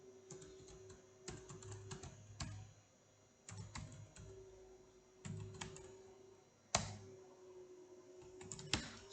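Typing on a computer keyboard while configuring a Junos network device: quiet bursts of rapid key clicks separated by short pauses, with occasional sharper keystrokes, close and alone.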